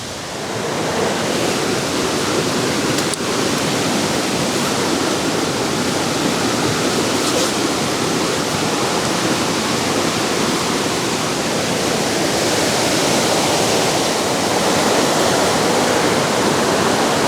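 A river in woodland rushes continuously, a loud, dense, unbroken roar of water that stays at the same level throughout.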